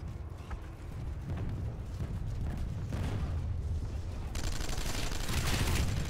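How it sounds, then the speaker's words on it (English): Squad gunfire in the shooter PlanetSide 2, a dense continuous rattle of rapid shots and booms, loud and sustained without pause. "I can't exactly see what we're shooting at right now, so. Just support fire."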